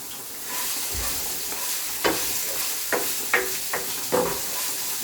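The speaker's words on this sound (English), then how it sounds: "I'm gonna add my favorite part, which is the crushed red pepper." Crushed red pepper hits a hot pan and fries, a steady close sizzle with several sharp stirring scrapes and clacks at irregular intervals, and no voices.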